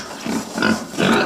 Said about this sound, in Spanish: Es un cerdo, monosílabo.